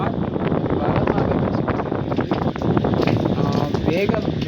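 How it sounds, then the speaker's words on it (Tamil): Strong cyclone wind blowing hard and steadily at around 50–60 km/h, a dense roaring rush buffeting the microphone without letup, with rain easing off. "காற்று வீசுவது அதிகமாகிவிட்டது"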